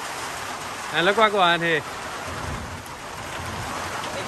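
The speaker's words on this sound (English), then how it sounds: "In the heart of dry season, you're going shower rain." A rain shower falls during the dry season on a backdam farm in Guyana, a steady soft hiss of rain throughout, with someone speaking briefly over it near the start.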